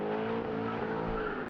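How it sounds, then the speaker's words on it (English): Car engines roar and rev in a loud, continuous rumble with a tonal whine, sustained through the whole moment without any talking. "Rev up your engines!"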